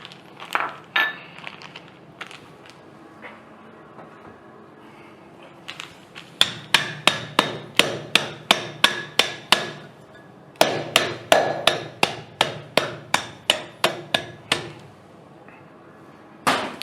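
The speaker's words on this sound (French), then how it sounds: "c'est concasser nos petites noix du Brésil" Brazil nuts being crushed for a dessert, heard as a few scattered knocks followed by two quick runs of regular, sharp, close pounding blows.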